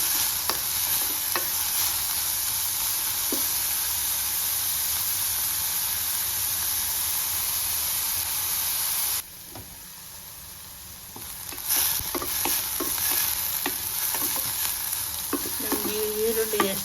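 Drumstick leaves roasting and stirred in a hot pan: a loud, continuous hiss of frying that drops suddenly partway through, then returns with scraping and clinks of a utensil against the pan.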